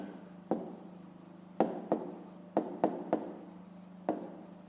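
Pen or pencil writing out a fifth-grade maths exercise solution on paper, close and quiet, with scratchy strokes broken by several sharp taps as the tip lands, over a steady low hum.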